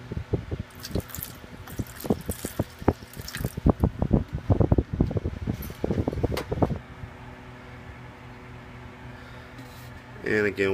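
Water splashes onto a potted superhot pepper plant being fed organic fish or blood meal fertilizer, giving a run of close, wet drips and spatters that then settles into a quieter trickle over a steady hum.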